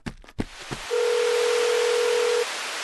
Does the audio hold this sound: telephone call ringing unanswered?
yes